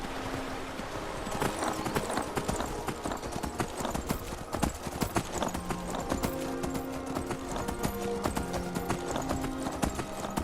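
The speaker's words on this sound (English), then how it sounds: "it just causes the horse to run away" A galloping horse in Skyrim's Rift region, with rapid, continuous hoofbeats pounding close and loud over a rainy game soundscape and background music.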